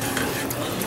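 Gumbo being stirred in a pot on the stove, a steady scraping swirl over a faint simmering sizzle, close and continuous for a moment with no talk.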